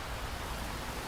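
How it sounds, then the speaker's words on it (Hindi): Heavy cartoon rain pours as a steady, dense hiss with no break and no voices. "बारिश बहुत तेज थी।"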